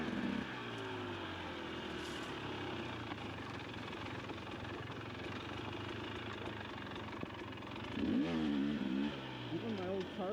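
A 2023 KTM XC300 dirt bike engine idles with a steady, close, slightly uneven putter, then gives a short rise in pitch like a blip of throttle near the end.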